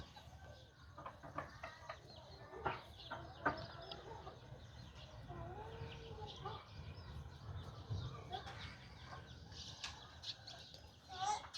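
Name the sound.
chickens clucking around the house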